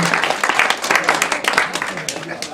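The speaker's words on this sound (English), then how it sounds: "Give her a massive round of applause." An audience at a mixed martial arts press conference breaks into steady applause, a dense patter of clapping with a voice talking over it.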